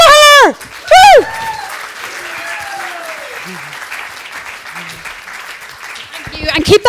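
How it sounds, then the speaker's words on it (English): An audience at a comedy show at a zero waste festival breaks into bursts of applause and cheering, loud and close, with a voice speaking over the clapping between bursts. "keep that warm applause going for your wonderful host, Diane"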